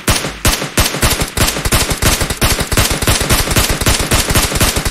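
Rapid automatic gunfire in the PUBG Mobile battle royale game on the Karakin map, loud dense bursts of closely spaced shots running nearly continuously with brief pauses.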